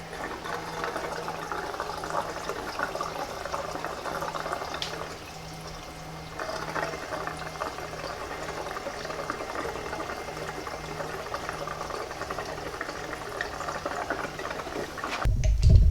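Gasoline pours from a gas can spout into a flood-damaged Toyota Camry, a steady, soft gurgling flow of liquid that runs continuously with a brief dip midway and a clunk at the end.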